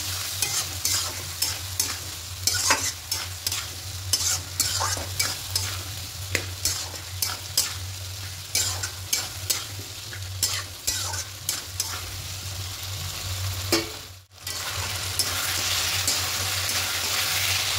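Poppy seed and dry chilli paste being stirred into potatoes and pointed gourd in a pan, with quick repeated scraping strokes over a soft sizzle, close and steady, pausing briefly near the end.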